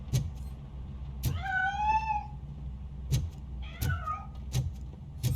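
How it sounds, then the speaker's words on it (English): Cat meowing in the video game RoboCop: Rogue City, two drawn-out meows with a few sharp clicks and a low steady hum behind them. "That cat must be hiding inside."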